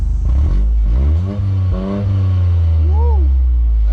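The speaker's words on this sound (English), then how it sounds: "Let me get a rev. Let me get a little rev." A 2024 VW GTI engine revs up and down loudly nearby, with a couple of quick throttle blips followed by a longer rising and falling rev, while someone speaks briefly over it.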